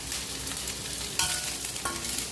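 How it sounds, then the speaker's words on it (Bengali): Chopped potatoes and green chillies fry in hot oil with whole cumin and peppercorns, a steady close sizzle with a couple of sharper stirring scrapes, no talk. "আলুটা একটু লাল লাল করে ভেজে নেবো"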